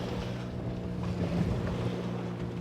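A fishing boat out on the open sea in strong wind, with a steady low engine drone under continuous rushing wind noise and water wash, loud and unbroken throughout.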